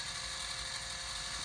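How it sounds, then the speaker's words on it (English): A power drill bores a hole in a part for a 1:14 scale Tamiya Globe Liner RC truck, giving a steady, loud, continuous high whine with no break or change in pitch. "Just let the drill bit do the job."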